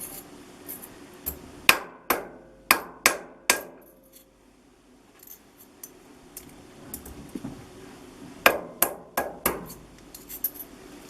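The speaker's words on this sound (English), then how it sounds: "now I have hammer." A hammer taps on a custom RC drift car camera mount, sharp close metallic strikes in two quick bursts of about six blows each, separated by quiet handling noises.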